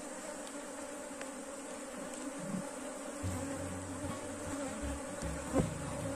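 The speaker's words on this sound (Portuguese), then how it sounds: "tem muita abelha" Many honeybees buzz around a hive being split into new colonies, a dense, continuous droning hum close by, with no talking.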